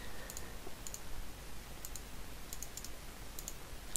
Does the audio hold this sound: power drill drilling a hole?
no